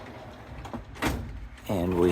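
A plastic LEGO sorting drawer slides open and shut in a brief scraping rush, with a voice talking nearby just after.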